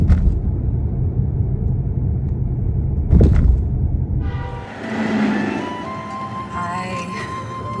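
A car driving on a road into town, a loud steady rumble of engine and tyres with a brief louder whoosh midway, then a shift in tone as the road noise changes.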